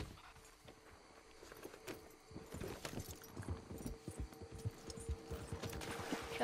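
Horse hooves clip-clopping at a walk in the video game Red Dead Redemption 2, a quiet, steady run of hoof thuds with an irregular rhythm, alone without talk.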